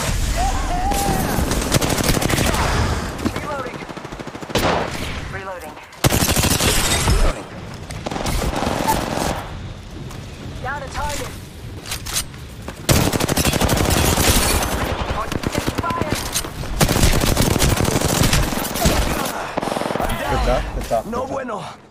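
Rapid automatic gunfire rattles in repeated bursts in the video game Apex Legends, played as Octane in gold armor, with heavy booms and impacts breaking up the shooting and a player talking over the action.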